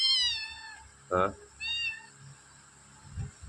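Domestic cats, a tomcat and a female, give several close meows: a long high wavering cry, a short sharper one, then another drawn-out call, with quiet talk and small rustles in between.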